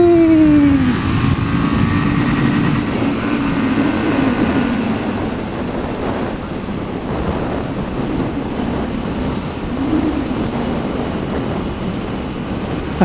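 A Kawasaki W800 motorcycle on a test ride: a steady engine drone buried under heavy, continuous wind rush, with a brief rising engine note at the start and no talking.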